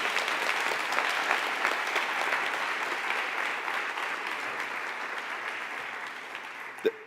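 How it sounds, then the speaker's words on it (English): A crowd claps for young scholars at a ribbon-cutting ceremony, a sustained wash of many hands at moderate volume that tapers slightly toward the end, with a brief sharp knock near the close. "Can we do another applause again?"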